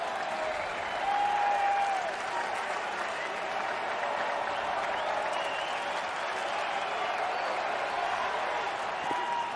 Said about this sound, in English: So this crowd is wound up